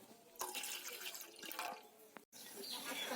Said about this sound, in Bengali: আর অল্প একটু জল দেবো দুধের মধ্যে।